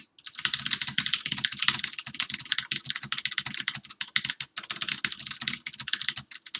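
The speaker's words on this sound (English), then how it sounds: "Let's see how fast I'm typing today." Fast typing on a computer keyboard, a dense, steady stream of close, crisp key clicks lasting throughout with no talking.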